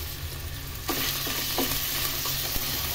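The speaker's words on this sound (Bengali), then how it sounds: "তো এখানে গোশের কিমাটা ভেজে নিচ্ছি তেলের উপরে।" Minced meat frying in hot oil in a pan for a pasta dish, a constant close sizzle punctuated by a few scraping stirs partway through, with no voices.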